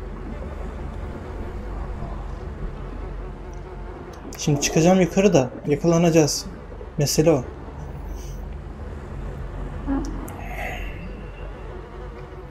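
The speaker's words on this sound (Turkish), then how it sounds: "her yer sinek dolu" Flies buzz in a grim, corpse-strewn level of the video game Little Nightmares 2, a steady insect drone running beneath the whole stretch while someone talks over it in bursts.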